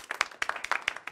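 A comedy show audience gives a brief burst of scattered clapping. Separate claps land close together and fade out within about a second.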